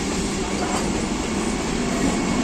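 A Vande Bharat express train rushes past on the Howrah division line, a loud, steady roar of wheels and rail noise that fills the whole stretch without pause.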